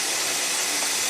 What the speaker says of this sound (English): Then a vacuum draws the sheet onto the mould.